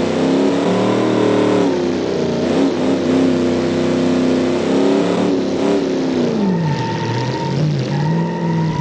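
A classic muscle car engine in the BeamNG driving game revs and pulls through gears steadily and loud, pitch rising and dropping with shifts, with a faint whine appearing near the end.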